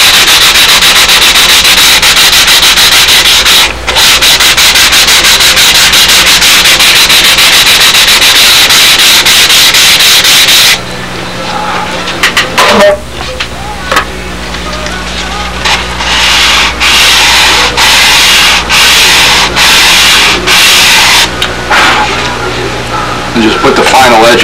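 Hand sanding of glued wood parts, a steady loud rasping rub that runs continuously for about ten seconds, then turns into shorter intermittent strokes and scrapes with gaps between them.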